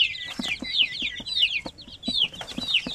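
Basilan native chickens cluck close by in a quick, repeated series of short calls, with higher chirpy notes mixed in. The calls come in irregular bursts and stay fairly loud throughout, with no talking.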